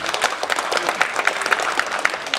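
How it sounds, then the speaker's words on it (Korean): An audience applauds after a popera singer's stage performance at a public event, a steady spread of claps with some individual sharp hand claps standing out nearby. "다시 한번 큰 박수 부탁드리겠습니다"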